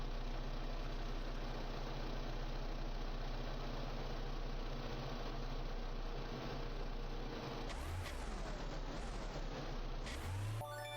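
A vehicle engine in the Oil Refinery simulation game hums steadily while reversing into a parking spot, with rising whines and a few clunks late in the clip, faint and continuous.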